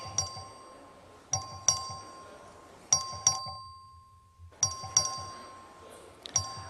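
A legislative chamber's voting bell rings in repeated sharp, bright strikes with ringing decay, several clustered hits separated by a brief quiet gap, moderately loud in a large room.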